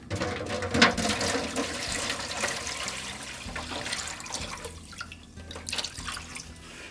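Water is poured into the metal water pan of a drum smoker, a splashing, trickling gush that starts with a strong splash and then settles into intermittent dribbles and clanks.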